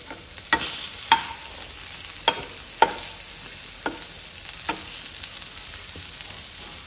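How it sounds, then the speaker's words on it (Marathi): Food frying in a little oil over a low gas flame while a Goan dish is cooked. A steady sizzle runs throughout, broken by several sharp clicks and scrapes from stirring or turning. "थोडेशें तेल घालपाचें आनी हें आमकां न्ही बारीक गॅसाचेर फ्राय करून घेवपाक जाय"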